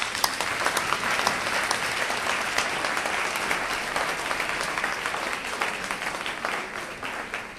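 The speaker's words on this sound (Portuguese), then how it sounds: "Palmas para o pastor Hamish." Church congregation at a service in Winneba, Ghana, applauding for the pastor, a dense, sustained wash of clapping from many hands that stays steady throughout.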